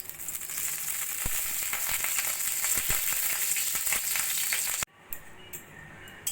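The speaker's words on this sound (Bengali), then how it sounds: "আর এদিকে আমাদের কড়াইও গরম হয়ে গেছে। কড়াইতে দিয়ে দেব অল্প করে ঘি।" Ghee sizzling in a hot kadai while making litti chokha: a steady, loud crackling fry with scattered pops that cuts off abruptly near the end, leaving quieter clinks and rustle.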